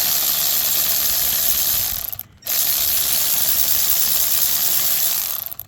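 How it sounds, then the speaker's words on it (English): Ratchet wrench loosening the 15 mm mounting bolts of the A/C compressor on a 2019 GMC Duramax L5P, a loud, close, continuous clicking that stops briefly midway and then resumes, with no talking. "the bolts are 15 millimeter. So we'll just break those loose"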